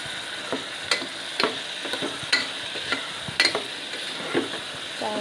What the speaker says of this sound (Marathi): करू दोन मिनटं ह्या पण जरा मसाल्यामध्ये असं परतून घ्यायचं